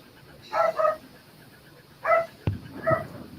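A dog barks in the background, a few separate bursts of two or three woofs each, moderately distant and alone without talk.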